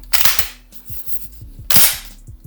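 A Panzer semi-auto shotgun's trigger gives sharp mechanical clicks as it breaks and resets, two brighter snaps standing out among several softer low taps over a few seconds.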